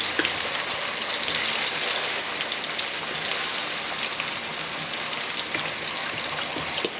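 Ghanaian plantain slices fry in hot oil with a dense, even crackling sizzle, loud and close, continuing without pause.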